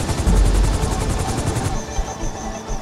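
A helicopter in the GTA Online heist at Humane Labs thumps with a rapid, steady rotor chop close by, joined by a higher pulsing whine in the second half.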